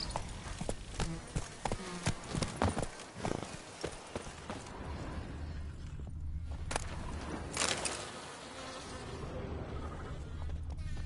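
Roach the horse trotting in Witcher 3: Blood and Wine, hooves clip-clopping in an uneven rhythm that is loud at first, then fades into a quieter ambient bed with a few scattered later hoofbeats.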